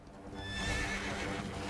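Horse in Dragon Quest XI whinnying loudly over quick galloping hoofbeats, a single continuous burst filling the short moment.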